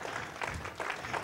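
A church congregation applauds the food ministry team during a Sunday service, a brief, fairly quiet burst of clapping with slight surges and no talk over it.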